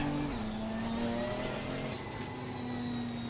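Ginetta GT4 race car engine in ACC racing game revving steadily, a sustained mid-pitched engine drone holding and shifting slightly in pitch with faint tonal whine above, loud and continuous.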